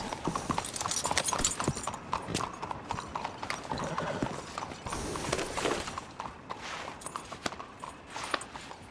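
Horse hooves clip-clop at a steady walking rhythm in Red Dead Redemption 2, close and fairly clear, with creaking tack and faint ambient game sounds.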